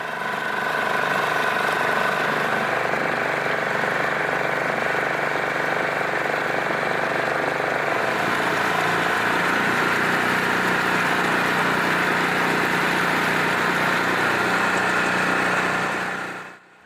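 A small boat's engine hums at a steady slow displacement speed on Loch Shiel, a continuous moderate drone with water wash that fades out at the end.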